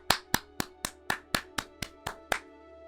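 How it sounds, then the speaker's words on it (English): Nine or ten crisp, evenly spaced claps ring out one by one at a steady, unhurried pace, close by and clear against a quiet background. "Round of applause."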